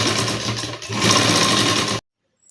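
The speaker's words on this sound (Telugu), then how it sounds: "ఇలా మూడు కలిపి పట్టుకొని ఆ చివరి వరకు లైన్ స్టిచ్ వేసుకుందాము." A sewing machine runs a continuous line stitch through layered fabric, loud and close, with a brief pause near the start before it stops abruptly.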